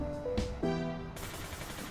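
Gunfire in the online shooter game APB Reloaded: rapid machine-gun bursts and shots, loud and close, layered over constant game sound with tonal effect hits.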